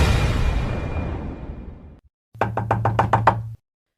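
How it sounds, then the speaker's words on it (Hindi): Loud knocks on a car window in a horror story, a burst of about seven sharp, close raps in quick succession after a fading rumble and a brief silence. "तभी उसकी गाड़ी की खिड़की पर जोर से एक आवाज हुई, जैसे किसी ने बहुत जोर से उसकी गाड़ी की खिड़की को खटखटाया हो"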